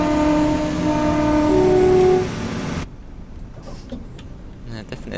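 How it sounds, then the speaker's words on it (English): A diesel locomotive in Train Simulator strains under wheel slip, a loud droning engine with wavering whine that drops away after two seconds, leaving quieter rail clatter. "You can hear a wheel slip on it here."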